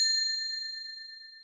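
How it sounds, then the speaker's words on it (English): A small bell hanging above a cafe door gives a single bright ding that rings on and slowly fades, heard alone. "The small bell above the cafe door chimed"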